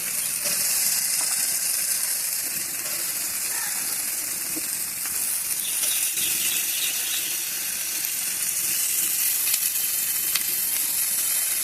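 Boiled jackfruit tipped into a pan of yogurt masala, setting off a steady, close sizzle and hiss of frying that holds without a break throughout, with no talking.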